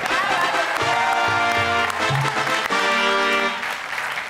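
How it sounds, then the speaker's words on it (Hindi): Applause from a studio audience at a Hindi comedy poetry show, heard under and between musical tones and a sustained instrumental backing that runs through the whole stretch. "जरा जोरदार इनके लिए तालियां बजाइए"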